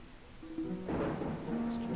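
Rain in the old camp of Gothic 1 hisses as a steady broadband wash, swelling louder partway through with a low rumble, under faint tonal ambience and no talk.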